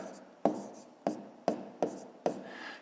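Pen or pencil writing numbers by hand on paper during a fifth-grade maths exercise, a series of five short, close tapping strokes at an uneven rhythm with soft scratching between them.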